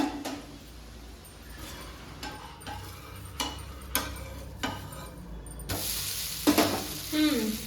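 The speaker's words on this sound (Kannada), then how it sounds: "ನಾನು ಅಕ್ಕಿ ಮತ್ತೆ ಒಂದು ದೋಸೆ ಹಾಕಿ ತೋರಿಸ್ತೀನಿ" Rice dosa batter hits a hot pan with a sharp hiss and then sizzles steadily, broken by clicking scrapes and ladle taps along the way.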